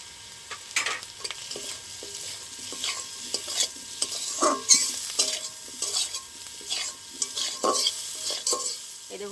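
Potatoes fry in a pan with chopped green chilli, salt and turmeric for flattened-rice pulao, a steady sizzle broken by repeated close scrapes and stirs of the spatula, with no talking.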